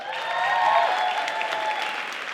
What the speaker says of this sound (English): You know that waving elicits big applause.